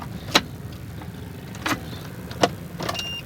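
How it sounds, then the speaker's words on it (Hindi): Ignition of a Mahindra Xylo with an ECM fuse fault is switched on, giving a few sharp clicks spaced out over a quiet background and ending in faint electronic chimes. "ये हमने इग्निशन ऑन कर दिया।"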